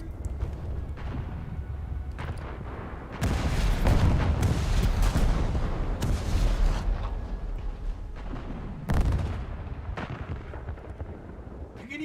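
Torpedoes strike enemy warships in a naval battle game during a Repair Factory event, landing as several loud, booming explosions in separate bursts over a constant rumbling battle background.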